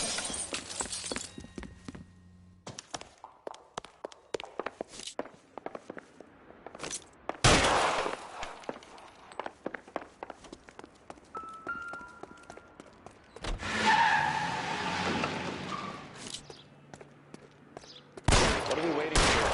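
Gunfire in the video game LA Noire, a shootout of sharp, loud shots and bursts scattered across the scene, with a dense barrage in the middle, mixed with game voices and footsteps.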